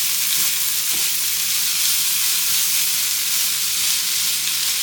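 Pork frying in an Instant Pot gives a steady, loud broadband sizzle that runs unbroken throughout, with a few faint stirring knocks underneath.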